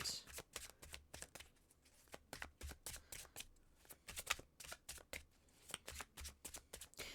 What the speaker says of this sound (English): I'm looking at the Three of Cups up there while I'm shuffling